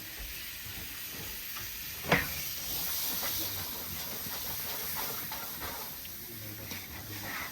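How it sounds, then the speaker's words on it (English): Chopped peppers sizzle in a pan of shrimp curry base with tomato, a steady close hiss of frying with a single brief clink partway through and no talk. "And the peppers are going in. Everything going in."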